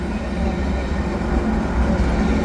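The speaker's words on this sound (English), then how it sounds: "Look at all this locomotives." A CN freight train led by seven locomotives rolls past at St Lambert, a loud steady low rumble and roar of engines and rolling wagons, close and continuous with no break.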